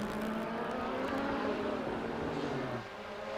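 The Silk Cut Jaguar race car is heard leading at Fuji in the 1988 World Endurance Championship, its engine roaring loud and steady as it passes, and the note drops away near the end.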